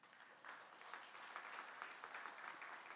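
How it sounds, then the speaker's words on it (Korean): A church congregation claps to welcome a new member at a Sunday morning service, a faint, quick patter that runs steadily and sounds distant. "박수로 환영합니다"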